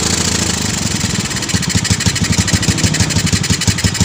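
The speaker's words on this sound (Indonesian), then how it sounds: "coba digas mas" A three-wheeler motorcycle's engine runs close by, a steady mid-pitched putter that turns into a rapid, pulsing chug as it is revved.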